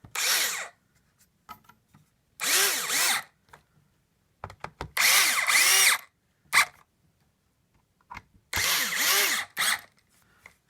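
A power drill drives 3/4 inch screws into wood on a night stand door, with four bursts of rising motor whine and short clicks and handling knocks between them, close and clear.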